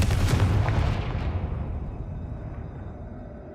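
A Confringo blasting spell in Hogwarts Legacy erupts as a single loud, booming explosion up close, then its rumble fades away gradually over a few seconds.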